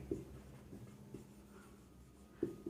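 Someone writes labels onto a drawing of a stoneware pipe Y-junction, producing a few short, faint scratchy strokes with pauses between them in a quiet room, with no talking.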